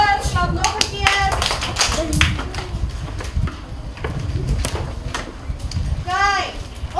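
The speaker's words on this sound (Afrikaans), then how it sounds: "Skrywer, klap nog een keer." Sharp hand claps on cue at a school photo session at Pionierspark, several single claps spread through the clip amid children's chatter and adult voices giving instructions nearby.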